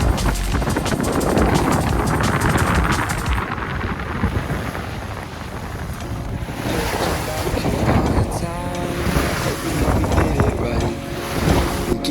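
Strong wind of about 15 knots on the beam buffets the microphone over rushing water and waves against a moving 1986 Hans Christian 43 sailboat, loud and continuous, with faint voices at moments.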